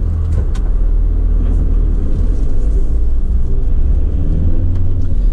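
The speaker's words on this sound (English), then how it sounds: "let me get the engine started up for you" A 2015 Ford Transit utility cab tipper truck engine runs with a steady, loud low rumble, close and continuous with no voices.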